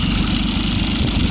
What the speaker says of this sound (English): this one runs pretty good for having 1121 hours on it